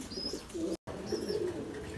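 Fancy pigeons coo softly in a home loft, with a few low, gentle coos spread across the moment and a brief break in the middle, quiet and fairly close.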